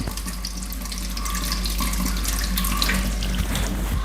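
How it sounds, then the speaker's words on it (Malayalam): Steady water running from a pedal-operated tap made from a petrol pump nozzle, a continuous close splashing stream into a kitchen wash basin that grows slightly louder, with no talk. "ഇത് പമ്പിലെ പെട്രോൾ അടിക്കുന്ന നോസാണ് അപ്പോൾ അത് വെള്ളം വരണമെന്നുണ്ടെങ്കിൽ നമ്മൾ താഴെ ചവിട്ടി കൊടുത്താൽ മാത്രമേ"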